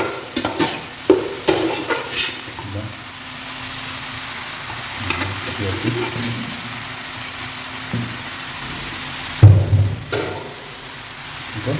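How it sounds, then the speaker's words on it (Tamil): Village spinach poriyal sizzles in a frying pan while a spoon stirs and scrapes against the metal. The clattering comes in bursts near the start and end, with a steady hiss between them and no talking. "இப்போ இதை வந்து கொஞ்சம் அப்படியே நீங்கள் கிண்டி விட்டுருங்க."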